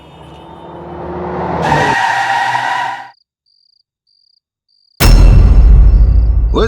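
A car brakes abruptly on a Gurgaon highway with a loud tire skid, sharp cut-off and sudden silence, then a burst of loud engine and road noise resumes.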